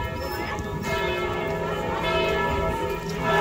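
Church bells in a busy French market setting, ringing loudly and continuously with overlapping metallic tones over crowd bustle.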